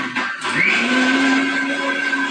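A mixer grinder whirs steadily as it blends chopped fruit pieces with sugar, a loud, continuous motor hum that rises in pitch shortly after starting and holds there, with no voices.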